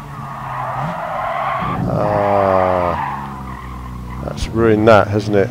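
Race car tires in GT Sport skidding and squealing under heavy braking, a loud sustained screech with engine noise, while someone talks over the game audio.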